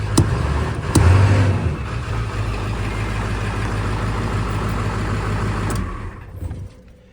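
A car engine being started and run, catching with a loud burst and then settling into a steady, close idle rumble for several seconds before it fades and shuts down.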